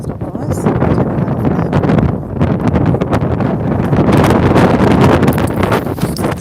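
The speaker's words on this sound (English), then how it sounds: "It's very, very windy." Strong, gusty wind roars loudly and continuously across the microphone outdoors near the water by Cockatoo Island, buffeting steadily for several seconds with no break.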